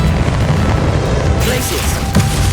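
Convulso spell blast in Hogwarts Legacy, a dense booming burst layered over busy combat noise, loud and close throughout with a sharper impact near the middle.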